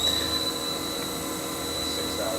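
A 2008 Haas VF-3B CNC mill with a newly installed spindle runs unloaded at 5,000 RPM, giving a steady close whine with a sharp high tone over a constant mechanical hum, unbroken from start to finish.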